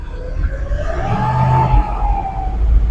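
A 1956 Chevy Bel Air engine revs up, its low rumble climbing and falling back over about three seconds, loud and close, with no talk over it.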